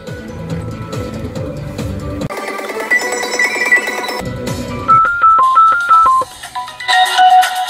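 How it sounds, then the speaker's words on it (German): A smartphone is called through a Bluetooth FM car transmitter: a steady run of DTMF-style keypad beeps, then a loud, clear melodic ringtone with repeating stepped tones, no talking. "Jetzt rufe ich mich noch selber an."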